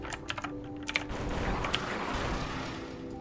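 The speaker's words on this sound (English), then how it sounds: "Mechanical keyboard, it pops in my ears." Rapid clicking keystrokes on a mechanical keyboard, a few separate taps followed by a dense, fast burst of typing, close and fairly loud with no talking.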